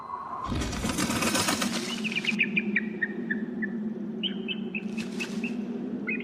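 Birds flutter and chirp inside an abandoned office building; a burst of wing flapping comes first, then scattered short chirps over a steady low hum, with a second brief flurry of wings.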